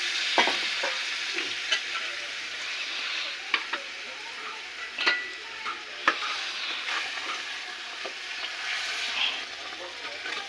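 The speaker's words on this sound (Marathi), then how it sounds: "मसाल्यासोबत पायाला फ्राय होऊ देऊ थोडं" Continuous close sizzle of goat trotters frying in spice masala in a pan, broken by occasional sharp clinks and scrapes of a utensil stirring.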